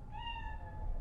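A cat meows once in the Cyberpunk 2077 video game, a clear, drawn-out mew heard near and alone over a low ambient hum.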